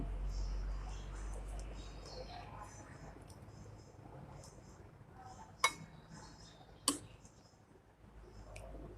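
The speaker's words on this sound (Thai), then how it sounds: "จะขอตักใส่ถ้วยนะคะ" A ladle serves southern Thai sour curry with papaya and fish into a bowl. Soft scraping and clinking of metal on the pot are heard, with two sharp, close clinks against a quiet background hum.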